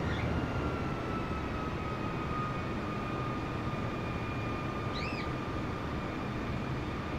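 Airliner taxiing in Microsoft Flight Simulator 2020, a steady engine whine and broad rumble holding constant throughout, with a faint chirp partway through.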